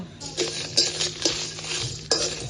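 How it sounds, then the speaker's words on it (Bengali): Whole cumin seeds and dried red chillies dry-roasting in a bare pan for chana masala, with quiet clinks, light scraping and a soft pattering rattle as the spices are stirred, close and faint. "শুকনো খোলায় মশলাগুলো ভেজে নেব"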